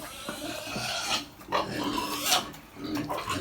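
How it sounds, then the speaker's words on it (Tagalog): A pet pig named Pilipi eating its food at close range, with soft grunts and snuffling chewing noises that come in short bursts over steady background noise. "Yan yung baboy namin."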